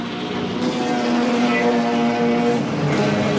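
Porsche sports sedan sliding sideways at a 1980s Australian race meeting, engine droning loud and steady with a rising whine, commentary audible beneath it.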